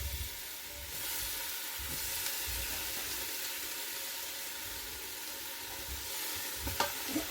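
Thick slices of leftover roast beef frying in a pan, a steady soft sizzle and hiss that runs on evenly, with a few faint clicks near the end.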